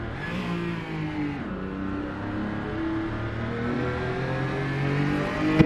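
A race car engine revs onboard in a racing simulator game during an eRoC qualifying final, a loud, continuous whine whose pitch drops once and then climbs steadily through the gears.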